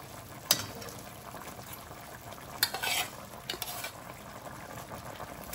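Chicken curry with a chili, garlic and coriander paste fries quietly in a pan, a soft steady sizzle broken by a few brief scrapes and clinks of a stirring utensil.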